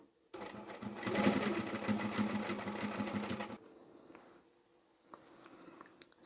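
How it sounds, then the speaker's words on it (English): Sewing machine stitching layered fabric for a ponytail beanie: a fast, steady mechanical whir and needle chatter runs loud for about three seconds, then stops, followed by quiet handling clicks and rustling of the fabric. "just continue to sew."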